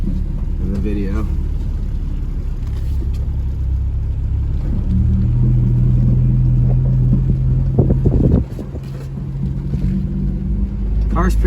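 A Honda Civic's K24A2-swapped engine rumbles low through a 3-inch exhaust, the revs climbing and holding before dropping abruptly, then settling back into a deep idle.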